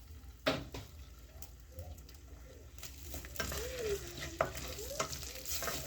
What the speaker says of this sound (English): So here I will go in with my oil.